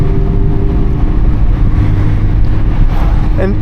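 Steady, loud wind buffeting and low road roar inside a Mazda MX-5 ND2 Miata roadster driving with the windows down, continuous throughout with a faint brief voice near the end.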